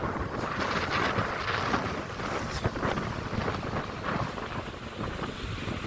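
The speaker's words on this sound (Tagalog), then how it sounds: "So paambon-ambon lang pero ang lakas ng hangin." Strong gusty wind from Super Typhoon Uwan roars steadily over the sea at Nasugbu, Batangas, with light rain, buffeting the microphone in a continuous loud rush.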